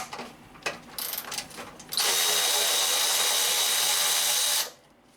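A power tool fitted with a 10mm socket backs out bolts on a Honda Pilot radiator fan assembly: a few short bursts, then one sustained, loud, high whirring run lasting several seconds before it cuts off, close up with no talking.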